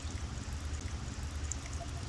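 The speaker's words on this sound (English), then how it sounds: "And as you can see, the water is going to come out." Water drains from an Atwood RV water heater tank in a steady, close gushing pour that runs on evenly without a break, with no talking.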